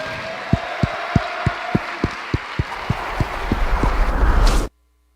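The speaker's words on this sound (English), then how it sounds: "Let's give a round of applause for all 3 of you one last" A basketball crowd in a school gym applauds senior players with a string of steady, evenly spaced claps. The claps then swell into a louder wash of cheering noise that cuts off abruptly.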